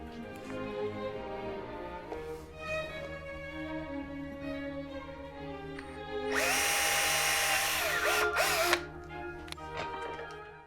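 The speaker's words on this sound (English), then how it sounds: "then we'll basically just drill that out quickly" A power drill whines steadily as it bores out a hole in a Merkel Helix Speedster rifle, growing louder and harsher midway through, then easing back to a lighter whir.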